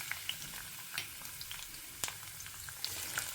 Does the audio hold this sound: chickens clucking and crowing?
no